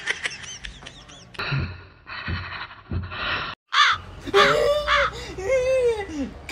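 Crow cawing in repeated harsh calls, loud and close, broken by a brief silence and mixed with other voice-like sounds.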